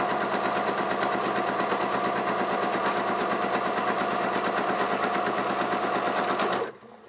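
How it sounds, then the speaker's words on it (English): A sewing machine running a twin needle for parallel pin tucks, a loud, close, steady rapid whir of stitching that keeps going for several seconds, then stops abruptly. "I just stitch perfectly straight, parallel rows using those 2 threads"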